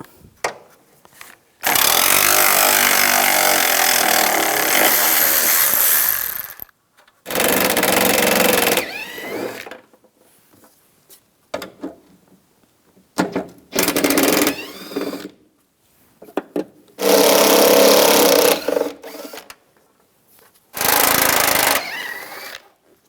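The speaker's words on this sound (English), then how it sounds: "Using a 10mm socket, take all these bolts out." A power ratchet with a 10mm socket spins out bolts while removing a panel during front strut replacement on a 2004-2009 Toyota Prius, giving several loud whirring bursts of a few seconds each, separated by clicks and handling noise.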